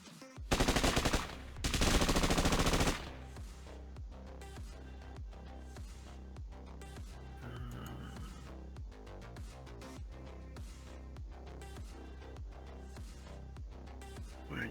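SMG gunfire in a Cyberpunk Red tabletop game session: two loud sustained bursts of rapid automatic fire at the start, followed by a steady run of evenly spaced sharp shots over a low rumbling background.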